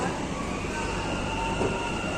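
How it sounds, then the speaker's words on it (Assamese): A metro train arrives at a station, rumbling steadily with a broad, continuous roar and faint high whine, close by, with no clear break in the noise. "এই মাত্ৰ 4 মিনিটৰ পিছতে আহি পালে আমাৰ মেট্ৰ'"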